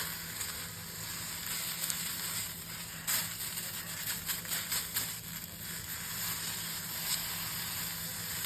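Neem leaves frying in a pan, a steady, fairly faint sizzle and hiss that runs throughout with small crackling bursts and occasional stirring, no talking.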